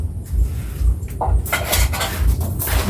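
Cooking pots and their racks handled in a home kitchen, a series of close metallic clanks and knocks with a cupboard-like bump, loud and irregular, with no talking.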